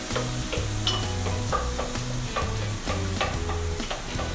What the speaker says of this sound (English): So you want to have your butter and your onions going in here.